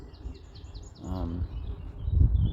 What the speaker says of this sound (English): I can hear a bird song